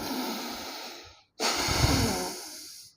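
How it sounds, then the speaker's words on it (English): A person breathes forcefully in and out through the nose in a yogic breathing exercise, two long rushing breaths split by a brief pause, close and loud, with no speech. "breathing in from your nose and breathing out from your nose forcefully"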